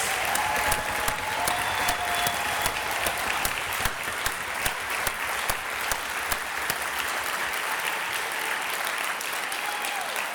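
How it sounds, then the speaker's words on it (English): A crowd at the 2021 Cleveland Arts Prize awards ceremony applauds the winners, a steady, sustained wash of many hands clapping at moderate volume for the full stretch, with no talking over it. "Give yourselves a round of applause and give our winners a round of applause."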